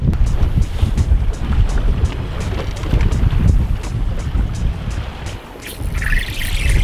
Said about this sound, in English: Absolutely crazy wind out here today.